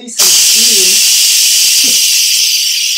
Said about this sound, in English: I actually have to release some steam